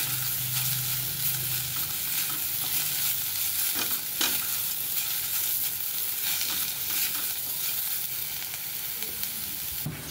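Garlic cloves, an inch of ginger and onion roast in a pan for a Satara-style black bean curry, a steady close sizzle with occasional stirring scrapes and clicks, no talking.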